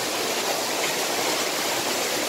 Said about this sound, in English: More than water rushing down.